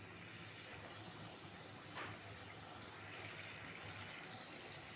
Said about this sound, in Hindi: तो जस्ट 2 से 3 चम्मच इसमें पानी डाल दें।